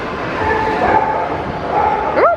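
Dogs at a dog day at a baseball park give short yips and whimpering barks over a steady crowd murmur, with a sharp yelp near the end.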